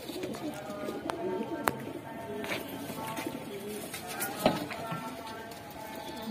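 Brown Amritsari pigeons coo in a loft, soft repeated low cooing calls with sharp clicks and scuffles of movement in between, heard close up.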